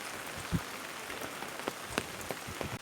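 Rain falls close by on a surface, a soft steady patter with scattered louder individual drops landing at irregular moments.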